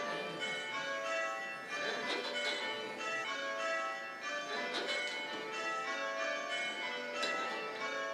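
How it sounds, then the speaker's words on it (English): English church bells ringing continuously in a tower, several overlapping bright, ringing tones sustained throughout at steady loudness, with no talking. "They can practice ringing at the right speed, and they can practice ringing the rather complicated patterns, which are the characteristic of English bell ringing."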